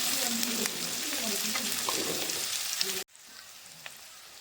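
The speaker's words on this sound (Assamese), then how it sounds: "প্ৰথমতে অলপমান সৰু সৰুকৈ কটা পিঁয়াজখিনি ভাজি ল'ম।" Finely chopped onions fry in oil for Assamese poha, a steady broadband sizzle with faint stirring clicks that cuts off abruptly near the end, leaving a quieter low hiss.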